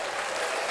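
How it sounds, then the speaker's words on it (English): Applause for a podcast guest at the end of an interview, a steady, dense wash of clapping held at an even loudness through the short moment with no voices over it. "Let's give him a round of applause."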